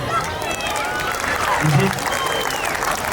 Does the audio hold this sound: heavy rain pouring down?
no